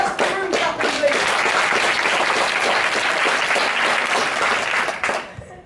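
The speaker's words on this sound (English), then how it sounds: "can we have the rest of the room clapping" A room full of people claps loudly and continuously for several seconds during a training session, then the clapping trails off abruptly with a few final claps, no talking over it.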